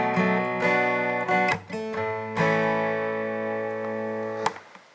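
Acoustic guitar riff from a worship song, with hammer-ons worked into a strummed pattern: clean, close, ringing chords with several sharp strum attacks and sustained notes, played alone.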